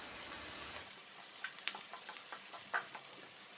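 Onion and green chilli sautéing in a pan for a Kerala lunch curry, a soft steady sizzle with faint scattered clicks of stirring, quiet and close.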